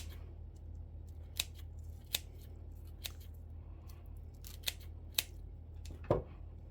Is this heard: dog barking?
no